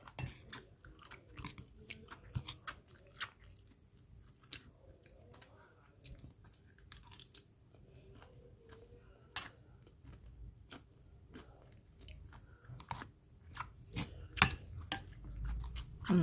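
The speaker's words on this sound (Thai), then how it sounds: "ผัดใหม่ๆกินใหม่ๆก็กรอบ อร่อย" Crunchy, freshly stir-fried tender young beans being chewed close up, with irregular crisp bites and soft mouth sounds, plus occasional faint clinks of cutlery or dishes.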